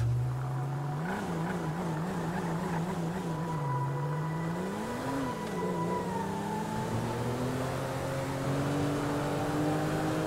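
A car is driven in the GTA V video game, its engine humming steadily with a few wavering revs and gear changes, continuous and unaccompanied by speech.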